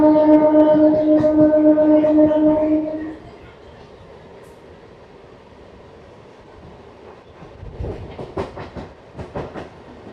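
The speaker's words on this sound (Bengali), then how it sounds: "আমাদের ট্রেন ছেড়ে দিয়েছে জ্ঞানদাস কান্দা থেকে" A MEMU train horn blares for a few seconds, then the steady rumble of the train on rails continues, with rhythmic clacking growing louder toward the end.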